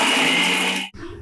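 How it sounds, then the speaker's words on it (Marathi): A mixer grinder whirs loudly as it grinds masala with a little water, a steady high motor whine that stops abruptly just before the end, leaving faint background noise. "आपण आता हे सर्व साहित्य मिक्सरला बारीक वाटून घेऊया"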